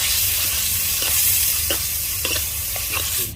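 Shallots hit hot oil with sautéed tomatoes for a rainy-season crab soup, giving a steady close sizzle broken by a few soft stirring scrapes, with no talk.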